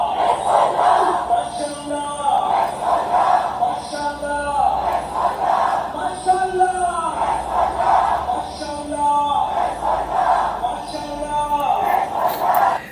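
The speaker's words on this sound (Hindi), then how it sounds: "ईरान में सड़क पर उतरी ये भीड़ और माशाअल्लाह हिजबुल्लाह के नारे लगाए गए हैं" A large street crowd in Iran chants Hezbollah slogans in unison, loud rhythmic waves of massed voices that rise and fall in repeated cycles for the whole stretch.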